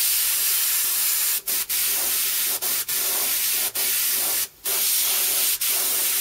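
An airbrush sprays paint onto a t-shirt in a steady, close, continuous hiss, broken by several brief pauses where the trigger is released.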